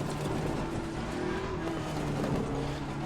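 A GT race car in Assetto Corsa Competizione roars steadily at close range as it brakes, engine droning with faint tire scrub throughout a short, continuous stretch.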